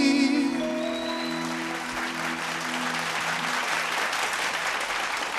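Audience applause after a vocal performance at a singing contest, a dense clapping wash that starts loud and holds steady as the last sung and sustained tones fade out beneath it.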